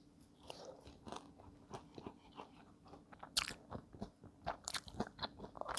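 Seasoned fried chicken, freshly delivered, is bitten and chewed up close, with sharp crunches repeating irregularly between softer chewing sounds.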